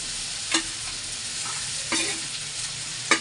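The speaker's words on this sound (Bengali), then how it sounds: "এখন আলু একদম ফোড়ন দিয়ে বসিয়ে দিয়েছি" Potatoes frying with spices in hot oil in a pan: a steady close sizzle broken by three distinct scraping stirs of a spatula.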